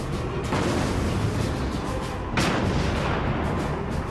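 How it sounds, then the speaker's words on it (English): A tank cannon fires in a Battle of France setting, with two heavy booms about two seconds apart. Each blast is loud and broad and rolls off over a constant battlefield roar, with no voice heard. "We take the shell, we put it in the cannon, we aim, and we fire."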